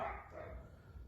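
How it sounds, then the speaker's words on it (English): Dog barking in the background indoors, a short faint bark or yip at the start, distant and quiet. "Sorry about the dog in the background."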